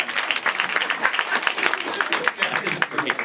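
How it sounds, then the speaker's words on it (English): Studio audience at a live comedy improv show applauds in a steady, dense wash of clapping, fairly close and lively throughout, with some voices mixed in. "Clap for those awesome suggestions"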